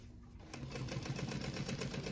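A sewing machine stitches through a pocket piece of a convertible crossbody bag, a steady quiet mechanical whirr with rapid rhythmic ticking that starts half a second in and runs to the end.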